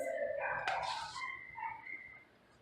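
A small dog whimpers and yips in a few high, whiny bursts, faint and somewhat distant, then trails off into quiet.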